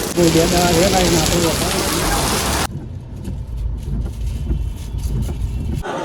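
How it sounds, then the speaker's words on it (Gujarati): Heavy rain in Lonavala, Maharashtra hisses loudly for a few seconds, then cuts to quieter, steady patter with a low rumble. "વરસાદ છે ને ચાલુ છે"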